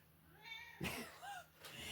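A domestic cat meows twice, close and clear, with rising and falling tonal cries in a quiet indoor room during a cross-stitch chat; no speech.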